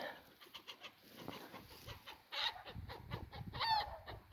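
Faint, distant clucking and squawks from chickens, growing more agitated toward the end, with soft rustling in the background.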